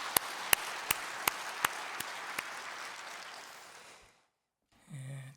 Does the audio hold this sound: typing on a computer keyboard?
no